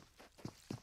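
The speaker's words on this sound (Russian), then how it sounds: "Слышали его шаги." Two soft, muffled footsteps in PUBG Mobile in quick succession over a low background hum, faint and a little distant.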